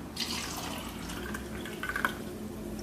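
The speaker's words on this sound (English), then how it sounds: "with regular tap water" Regular tap water runs and splashes over fresh fruits and vegetables in a sink, a soft steady trickle with a few faint drips close by.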